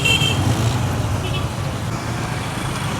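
Traffic at Chibuye roundabout in Kampala, a dense steady roar of cars, buses and trucks close by with faint distant toots, a voice talking faintly over it.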